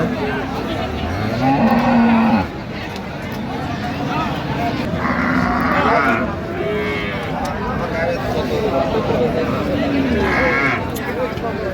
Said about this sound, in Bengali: গাভী বাছুর আমরা দেখছিলাম একটা